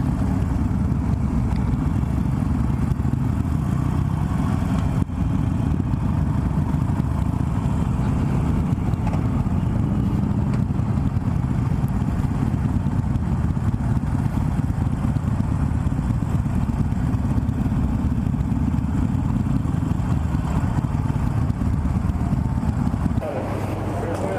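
Harley-Davidson Softail Slim with a Milwaukee 8 engine riding uphill in low gear, a steady low rumbling engine drone with wind noise lasting throughout, the rider occasionally speaking over it.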